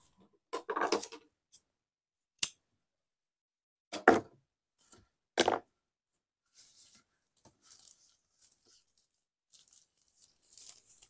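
A few sharp snips of scissors cutting raffia yarn during a crochet bag project, spaced short cuts with small handling rustles between them, close and quiet with no talk.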